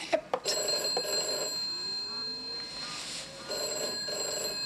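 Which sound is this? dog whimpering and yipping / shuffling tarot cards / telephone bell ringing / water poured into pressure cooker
telephone bell ringing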